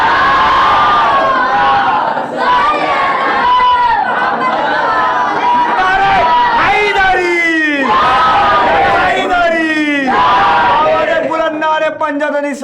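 Crowd of young men at a religious gathering in a Lucknow madrasa loudly recites salawat in unison, powerful chanted phrases rising and falling in repeated waves with shouts in between.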